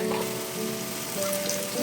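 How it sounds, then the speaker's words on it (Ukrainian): Steady sizzling of diced onions frying in hot oil, close up and continuous, with no voices. "Цибульку ось так кубиками довільно ріжемо і обсмажуємо"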